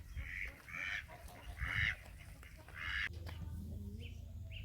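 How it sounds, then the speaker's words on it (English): Geese in a yard give several nasal honks in a loose, uneven series, moderately close, over a low steady hum of background noise. "There's geese over there, and I'm glad they're in the yard because geese aren't very nice sometimes."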